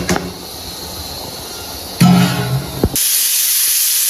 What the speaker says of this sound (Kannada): ವಿಜಿಲ್ ಸೌಂಡ್ ಬರ್ತಾ ಇತ್ತು.